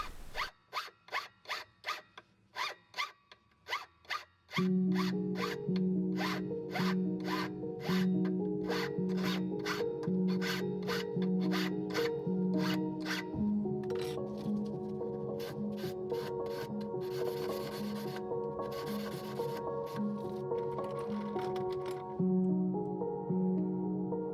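Jewelry wire being tapered as the vise turns it against a wooden bench peg: a few rhythmic scraping strokes, then a steady, continuous rasping rub with a low hum underneath, fairly close, with no voices.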